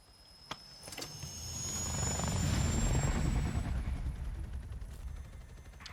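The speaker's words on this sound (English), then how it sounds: "we actually get to control the chopper ourselves" Helicopter in the video game Call of Duty Black Ops Cold War, a rotor thump that swells louder as it draws near and then eases off, with a few sharp clicks near the start.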